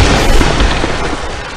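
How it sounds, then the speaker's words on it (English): A truck blows up in a destruction video game, a loud booming blast that rolls off and decays over a second and a half. "The trucks actually explode."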